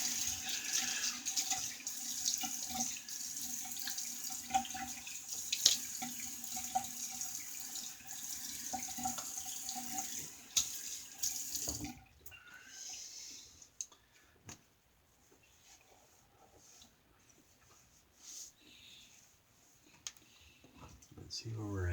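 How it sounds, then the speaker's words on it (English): A Clark's Silver King razor is rinsed under a running tap, with steady water hissing into a sink for about twelve seconds before it cuts off, leaving scattered clicks and small handling sounds. "Let's give it a rinse."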